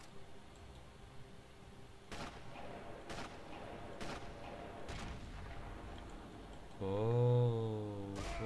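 Sniper rifle shots in the Sniper Elite video game, several sharp single cracks spaced about a second apart over a low ambient hum, then a sustained rising whine near the end.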